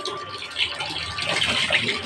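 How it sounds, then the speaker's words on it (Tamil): Tap water gushes steadily from a household pipe in a home kitchen, a continuous close splashing stream with no speech. "நமக்கு நல்ல தண்ணி வந்து இந்த பைப்பில் தான் வரும்"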